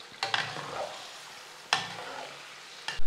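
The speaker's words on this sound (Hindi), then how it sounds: "अब हमने इसको 8 से 10 मिनट अच्छे तरीके से घी के अंदर फ्राई करना है" Beef frying in ghee in a karahi, with a steady close sizzle broken by three sharp bursts as the meat is stirred and tossed in the pan. Nobody speaks.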